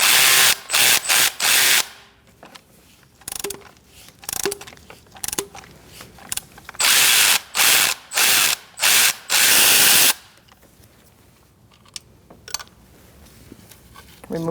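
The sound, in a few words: ratchet with E10 socket loosening thermostat housing bolt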